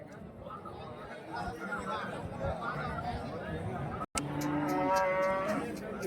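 Cattle moo among a busy murmur of people chatting at a crowded cattle market in Karimangalam, Dharmapuri district, India, with a long low moo standing out near the end.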